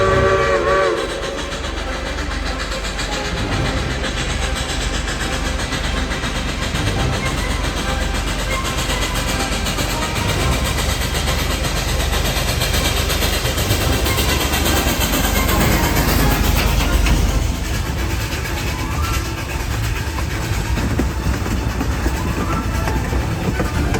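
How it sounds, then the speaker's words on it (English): A Denver and Rio Grande 476 narrow gauge steam locomotive chugs steadily through a canyon on the Durango to Silverton line, a loud continuous rumble with whistle tones, heard alone without talk. "The engine is chugging away, echoing off the canyon walls and 100-year-old trees."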